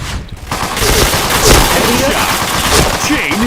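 Counter-Strike gunfire: loud, dense, continuous bursts of shooting fill the whole stretch, with talk mixed in underneath.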